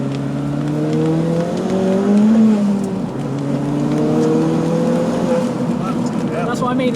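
A Ford Fiesta build car drives and accelerates, its engine note climbing and dipping through gear changes as a steady, fairly close drone, with someone speaking over it.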